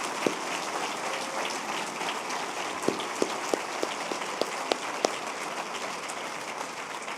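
An audience at a city State of the City address applauding, soft steady clapping with a few sharper nearby claps standing out, fairly distant and even.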